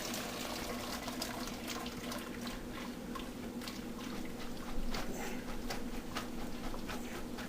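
Water gushes steadily from a kitchen sink as liquid is drained while a beef casserole is made, a continuous close rushing splash with a slight swell near the middle.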